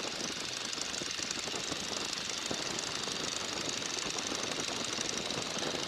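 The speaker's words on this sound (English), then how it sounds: "it's hard to hear the whistle right now because of the engine sound" Engine of a Boeing N2S-3 Stearman biplane on approach, a steady loud rough drone with dense rapid knocking, heard close and unbroken throughout.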